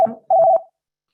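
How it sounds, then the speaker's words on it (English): A steady electronic telephone dial tone sounds twice on a city council public comment phone line, a short burst and then a longer one after a brief gap, clear and close, followed by silence. "The line was empty, just was ringing, dial tone on there."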